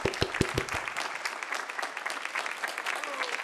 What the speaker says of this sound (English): What a rousing round of applause that we got.